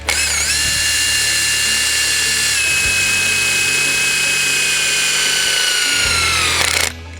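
A power drill drives 1/4 inch tech screws into a sample piece of bumper-thickness metal for dent repair, a loud, steady high whine that runs close and continuous for about seven seconds, then cuts off abruptly.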